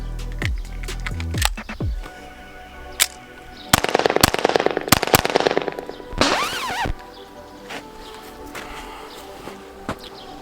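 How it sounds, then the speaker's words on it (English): Rapid-fire shots from a Ruger 22/45 .22 pistol at a range, a tight cluster of sharp, loud cracks fired as fast as the trigger can be pulled, with a few isolated shots before and after the main burst. "I'm gonna run it rapid fire, about as fast as I can pull the trigger"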